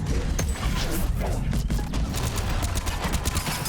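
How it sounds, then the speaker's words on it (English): Weapon barrage in the Mass Effect 3 video game, a dense, loud, continuous storm of overlapping gunshots and impacts with voices mixed in beneath the clatter. "that barrage hardly did a thing to him."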